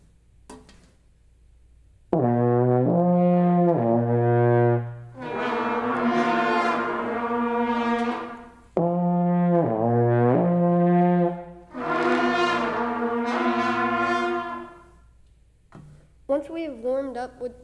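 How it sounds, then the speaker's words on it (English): A euphonium plays lip slurs, smooth connected notes gliding up and down through the harmonics without tonguing, in two long sustained phrases that are loud and close. A brief voice is heard at the end. "A lip slur sounds like this."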